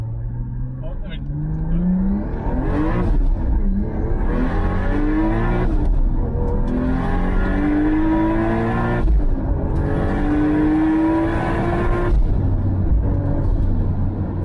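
A Toyota Supra Mark IV street car accelerates hard and loud from inside, the engine climbing through repeated rising sweeps with gear changes, and voices are heard over the engine.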